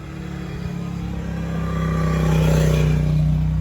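A single 10-inch subwoofer in a box plays loud, deep sustained bass tones that swell steadily louder, close and booming, with no voices.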